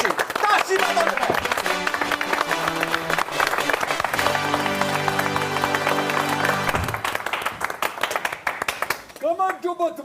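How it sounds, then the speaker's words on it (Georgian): Applause and clapping from an audience at a comedy show, a steady wash of claps running through most of the stretch with music tones and voices over it, thinning toward the end as talking takes over. "ტაში ბატონებო"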